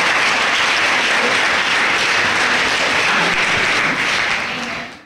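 A church congregation applauds loudly and steadily during a worship service, dense sustained clapping that fills the space before tapering slightly at the end.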